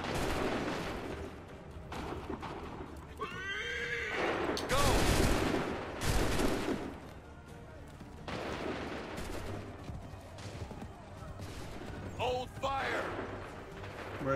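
Musket volleys crack out in bursts during an Assassin's Creed III battle, several loud fusillades spread across the scene amid shouted commands and battlefield din.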